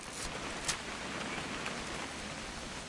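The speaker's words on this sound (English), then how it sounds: "It's gonna rain the whole weekend, isn't it?" Rain falling in the video game What Remains of Edith Finch: an even, broadband patter of rain holds steady throughout, with a few brief sharper drips and no voices.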